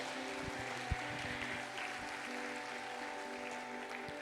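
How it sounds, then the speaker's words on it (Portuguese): Applause from a church congregation during a Wednesday evening service, a steady broadband wash of clapping that holds evenly throughout, with a low hum of music and no voices. "Dê uma salva de palmas a Ele bem forte."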